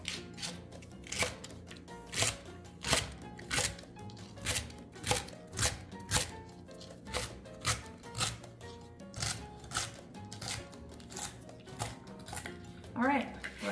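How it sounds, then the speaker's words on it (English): A knife rough-chops vegetables for potato salad on a cutting board, a steady run of sharp, close thuds at an even rhythm with faint speech underneath. "I'm just gonna give these a rough chop"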